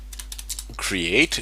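A few quick keyboard taps while typing a Linux LVM command, light evenly spaced clicks followed by a voice speaking over them.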